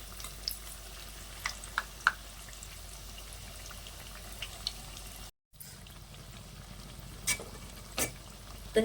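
Aloo patties shallow frying in oil in a pan over low heat, a steady quiet sizzle with a few light clicks and scrapes, briefly cut off midway before the gentle frying continues.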